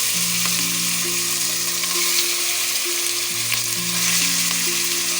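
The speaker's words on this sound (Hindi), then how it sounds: "अब इसके साथ मैं चिकन ऐड कर रही हूँ।" Chicken goes into a pan of frying onion, ginger and garlic for nihari and sizzles loudly and constantly, with a broad hiss of hot oil. A faint tone hums underneath, and nobody speaks.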